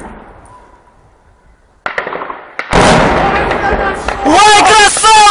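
A weapon fires at Donetsk airport: one sharp loud blast after a quiet lead-in, followed by a sustained roar and excited shouting voices close by.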